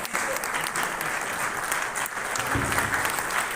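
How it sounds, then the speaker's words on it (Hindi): A standing audience at a Punjab trade association business meetup claps steadily, a dense, even wash of applause that holds throughout with a faint crowd murmur beneath. "खड़े होकर ताली बजाइए"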